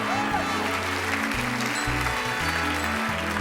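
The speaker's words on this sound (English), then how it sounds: "let's give our 6 charities and special guest presenters a round of applause" An audience at a theater charity check presentation gives a steady round of applause, with music playing alongside the clapping throughout.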